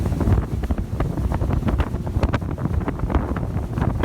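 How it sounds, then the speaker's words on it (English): Strong wind buffets the microphone in a steady, loud roar with gusty low rumble throughout, no voices. "It's so windy"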